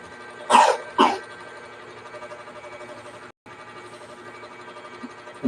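Two sharp coughs close together near the start, then a steady background hum with faint household noise.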